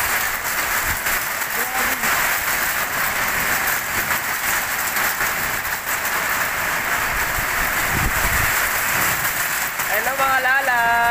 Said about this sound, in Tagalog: Ang lakas ng ulan dito sa Victoria, Australia.